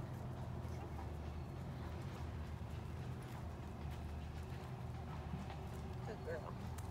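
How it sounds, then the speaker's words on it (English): Horse hooves clip-clop steadily at an outdoor dog training session with a Labrador, a moderate, even patter over constant background noise and faint murmuring voices. "Their horse is coming"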